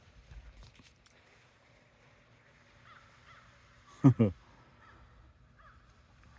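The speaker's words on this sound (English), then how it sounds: "crows, ravens, I don't know. Crows normally go together" Crows give two loud, quick caws close by, standing out from a faint, windy outdoor background.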